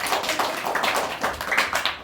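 An audience at a school Republic Day event claps continuously, a dense, fairly loud patter of many hands with no pauses.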